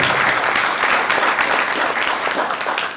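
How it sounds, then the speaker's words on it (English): Loud, dense applause from a crowd at a school communal harmony week event, steady clapping filling the whole moment without letting up. "Please, a round of applause."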